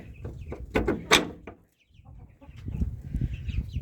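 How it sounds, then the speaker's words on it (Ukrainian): Young chicks cluck and rustle close by in an enclosed coop, with a few sharp bursts of activity and a brief pause before the shuffling noise resumes. "Будемо відкривати курчаток, випускати."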